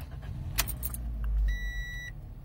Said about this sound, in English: I turn on the car